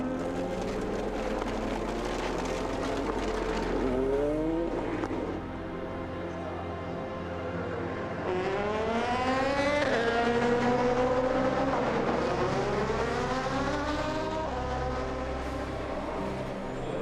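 Aston Martin race car number 97, damaged and limping back toward the pits after midnight at the 24 Hours of Le Mans, its engine whining through rising gear changes with other cars passing nearby.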